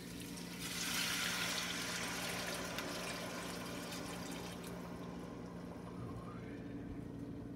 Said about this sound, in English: be careful when you put the water in,